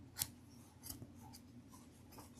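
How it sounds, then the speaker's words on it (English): Scissors making a rough cut to trim away embroidery fabric around a hooped mask, a few quiet, close snips and sliding blade rasps spaced irregularly over a very faint background. "I'm just going to, this is just a rough cut, meaning that I'm not going to trim it down super close. I just want to cut away this fabric"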